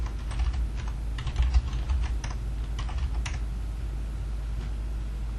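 Computer keyboard typing while entering tax form information, a fast irregular patter of crisp keystrokes clustered in bursts over the first few seconds and thinning toward the end, close and clear with no speech.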